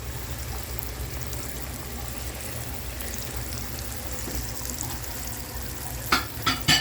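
Country fried steak frying in hot oil, a steady soft sizzle and bubbling with a few sharper crackles near the end, no talk.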